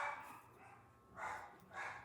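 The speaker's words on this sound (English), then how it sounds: "that's the dogs a-barking" Faint distant dogs barking outdoors at a landscaping job, three soft barks spaced apart over quiet background.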